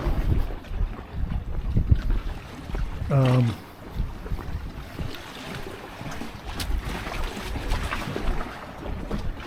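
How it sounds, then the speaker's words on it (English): Wind buffets the microphone in a steady, moderate low rumble on the Rockland Breakwater, with one brief squeaky tone breaking through partway. "It's still windy, but hopefully you're not hearing as much wind."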